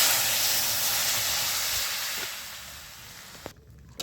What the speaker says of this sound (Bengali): এইবার আমি সেদ্ধ করে রাখা ডালটা দিয়ে দিচ্ছি